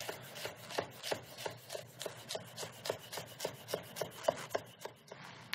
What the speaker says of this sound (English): I'm cutting them into slices about an eighth of an inch on a side